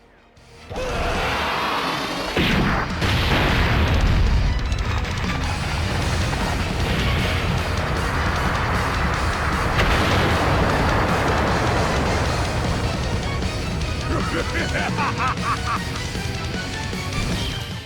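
Dokkan Battle active skill attack by Legendary Super Saiyan Broly, with Molten Lava explosions: a long, loud, dense stretch of game blasts, rumbles and crashes that rises suddenly and stays intense, with shifting impact bursts throughout.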